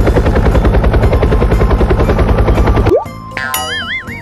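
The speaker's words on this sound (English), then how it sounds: "Helicopter." Helicopter sound effect in a children's phonics song: a loud, steady rotor chop for about three seconds, then a brief whoosh and cartoonish warbling tones.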